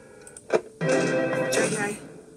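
A telephone rings in the video game Five Nights at Freddy's Ultimate Custom Night, a short electronic trill that bursts in loud and close after a brief blip, layered over voices and game sounds.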